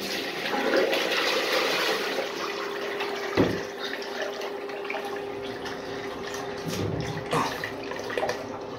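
A miniature 1983 Norris wall-hung toilet flushing, a rushing swirl of water that runs for several seconds, with a sharp clunk partway through and then gurgling refill sounds.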